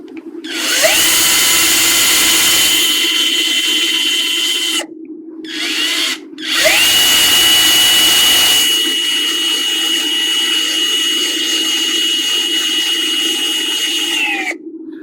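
A surgical power drill bores into a saw bone model during a Tornier Perform reverse shoulder replacement practice, giving two long, loud, steady whining runs separated by a brief pause, close and alone.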